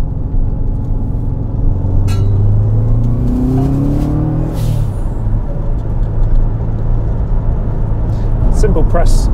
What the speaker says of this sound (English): As we reach the slip road, we'll apply some throttle now, we'll build some boosts